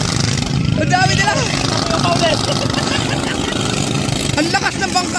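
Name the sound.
motorboat engine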